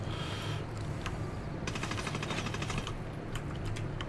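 Rapid automatic gunfire from the video game Ghost Recon Wildlands crackles in quick bursts, fairly quiet, with a low steady hum of game ambience underneath.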